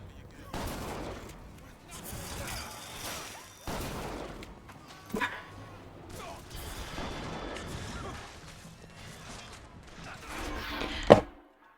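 Gunfire in the video game BioShock Infinite (Burial at Sea), with repeated loud bursts and volleys of shots through the whole stretch, ending in a sharp crack, with a voice faintly mixed in.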